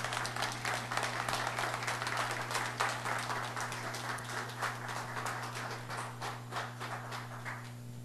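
A church congregation gives a warm round of applause to welcome a visiting pastor to the pulpit: steady, fairly quiet clapping from many hands that fades toward the end over a constant low hum.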